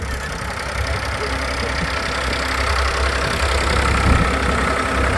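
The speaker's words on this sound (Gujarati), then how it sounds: "આ છે આપણી વાળી જીપીએસ સિસ્ટમથી હાલતું ટ્રેક્ટર" A GPS-guided tractor engine rumbles at idle close by during sowing on a farm, a low continuous drone with a faint knocking texture and no voices.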